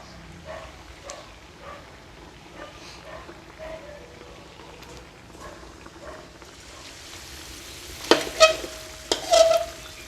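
Soft-fleshed red fish simmers in a red chu chee curry, giving a faint, steady low bubbling for most of the stretch, then a few louder clinks and clatters of a utensil near the end.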